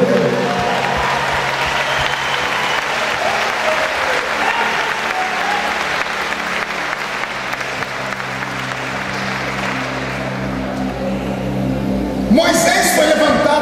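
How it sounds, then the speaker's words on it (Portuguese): A church congregation applauds in a long, steady wash of clapping that fills the space, with faint musical tones and a voice breaking in near the end. "E a igreja dá uma salva de palmas a Jesus pela vida dele."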